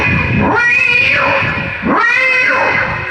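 A man imitates a cat's distress warning call with his voice, two long, loud wavering meows with rising and falling pitch, close up and alone.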